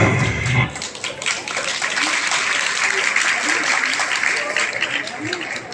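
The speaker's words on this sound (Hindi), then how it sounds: "आप लोगों की तालियां इतनी कम क्यों बजती हैं" Audience applause at a stage event, a steady wash of many hands clapping that swells in after a brief opening and holds evenly to the end, with some voices mixed in.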